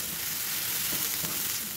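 Onion frying in a pan as the first step of a meat filling for stuffed rghaif, giving a soft, steady sizzle close by throughout.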